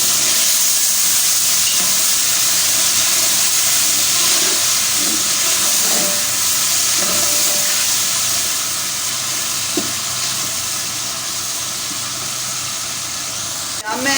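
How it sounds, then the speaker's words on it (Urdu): Water poured into frying masala for chana pulao sends up a loud, steady hiss of steam and sizzle that fills the whole stretch and tapers slightly near the end. "اب میں اس کے اندر تھوڑا سا پانی ڈال دوں گی۔"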